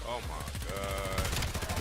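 Rapid bursts of automatic gunfire from the Call of Duty video game crackle in quick succession, with a voice talking over the shots.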